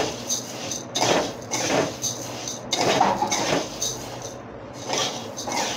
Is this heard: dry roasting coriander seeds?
yes